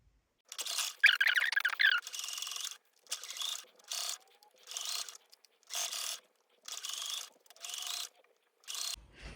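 A sewing machine runs a narrow seam through velvet fabric for a stuffed pumpkin, heard as eight or so short, evenly spaced bursts of mechanical whirring and clicking with brief pauses between, close and moderately loud, no talking.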